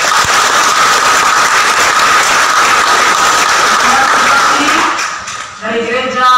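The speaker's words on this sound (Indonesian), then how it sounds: "Kita berikan aplaus." Loud, sustained applause from a church congregation at a Catholic thanksgiving mass in Merauke, steady clapping that fades toward the end as a choir's ringing tones emerge.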